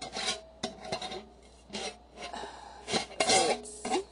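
Someone seals a money jar with a series of close, rasping rubs and scrapes in uneven bursts, alongside soft breaths and a cough-like sound.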